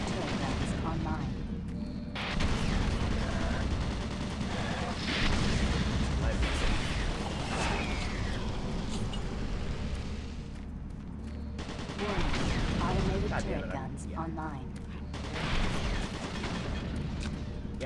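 Automated turret guns in the video game Doom 3 fire in sustained, dense bursts of rapid gunfire through most of the stretch, loud and continuous with brief lulls, while a voice talks over the shooting.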